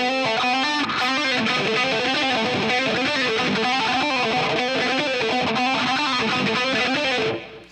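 A distorted electric guitar plays a fast, repeating lick from a song, loud and continuous for several seconds before cutting off abruptly at the end.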